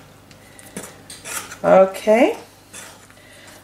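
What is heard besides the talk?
spoon folding banana bread mixture in a bowl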